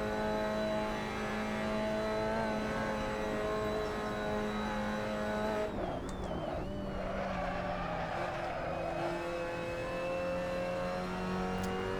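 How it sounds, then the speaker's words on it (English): Mazda MX-5 Cup race car engine in a sim racing game, a loud sustained drone that dips and shifts pitch midway as the car fishtails through a corner with brief tire squeal, then settles back to a steady high rev. "Car's just kind of fishtailing its way through the corner a little bit."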